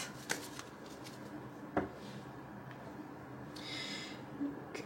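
Tarot cards being shuffled by hand, soft riffling and flicking with a few sharper taps, quiet and close with no talk.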